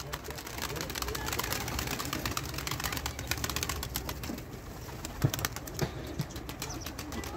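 A kılıç kanat tumbler pigeon circles overhead outdoors, its wings giving a string of sharp flapping claps that come and go. A few softer sounds and some faint talk sit in the background.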